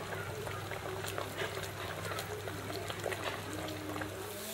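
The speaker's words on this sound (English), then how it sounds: "this is just barely simmering, really" Chicken pieces with onions simmer gently in water in a big pot over a charcoal fire, giving a steady low bubbling and soft trickling with faint pops, continuous and close throughout.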